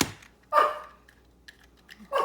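A puppy barks in short sharp yaps, two louder barks with a few small yips between them, close by and with no talk over them.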